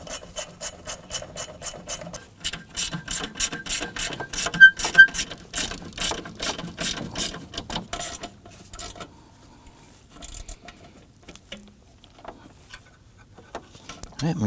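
Ratchet wrench tightening bolts on a 2015-2024 Nissan Murano during AC condenser work, a fast run of close, regular clicking bursts that stops partway, followed by sparse handling noises.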